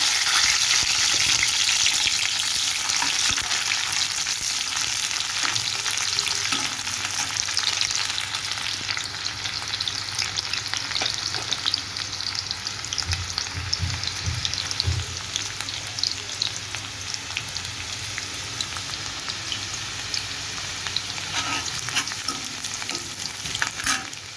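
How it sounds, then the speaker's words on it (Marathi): Onion and curry leaves fry in hot oil in a kadhai, giving a steady, fairly loud sizzle with occasional stirring scrapes throughout, and no one speaking. "तेल तापत ठेवलं आहे तर आता आपण कांदा टाकून घेऊया कांदा आणि कढीपत्ता"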